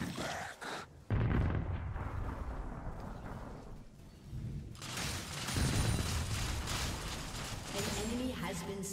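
Rapid heavy gunfire from Urgot in a League of Legends URF match, loud, dense booming blasts that run almost without a break, with a voice talking over them.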